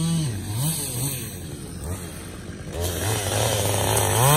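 Husqvarna chainsaw cutting through a cherry log, loud and close, its engine whining up and down in pitch as it bites into the wood, with no talk.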